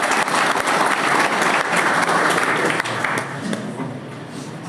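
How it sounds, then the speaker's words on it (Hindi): Loud, sustained applause from a crowd at a one-day CSC workshop, steady clapping that fades slightly toward the end. "जोरदार तालियां बजनी चाहिए।"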